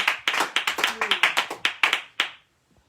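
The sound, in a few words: congregation applauding for Jesus in church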